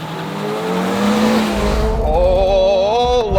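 Subaru BRZ launching hard off the line in a drag race, engine roaring loudly with squealing tyres from wheelspin, revs climbing steadily as the car pulls away.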